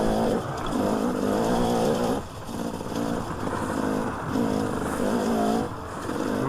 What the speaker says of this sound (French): mais elle est géniale cette moto.